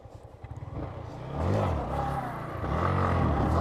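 An NS200 motorcycle drops its front wheel down from a wheelie, with a short clatter followed by the engine revving up loudly and steadily close by, without any talking.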